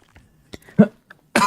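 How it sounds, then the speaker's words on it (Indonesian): A few short, dry coughs close by, with small throat sounds between, ending in a harsher, louder cough. "Sakit batuk saya."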